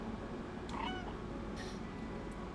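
A short cat meow in the video game Stray rises over a low background hum, fairly faint and unaccompanied by voices.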